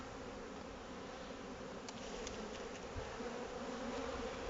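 Continuous low buzzing of many honeybees around hives during a feeding check after syrup feeding, steady and close, with a few brief higher whines of individual bees passing.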